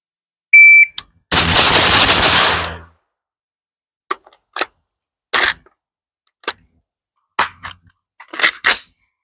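Pistol shots at an outdoor shooting range during drills: a long burst of noise, then a sequence of sharp, separate close cracks spaced unevenly, with silence between them and no talk.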